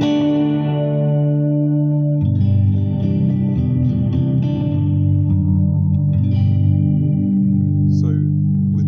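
Electric guitar through a Dirtbox Layouts Ghost Echo pedal kit with a Belton brick reverb, a sustained chord ringing out with a wet, lingering tail, then fresh strummed chords blooming into spacious reverb, played alone.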